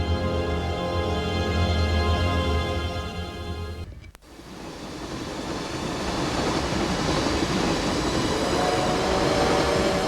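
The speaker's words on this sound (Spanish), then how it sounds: "Y los trenes seguían llegando." A train rolls and arrives with a loud, steady rumble and metallic rail clatter. The sound drops out sharply for a moment, then the wheels grind on without voices.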